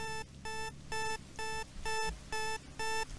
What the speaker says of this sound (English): Where's that alarm?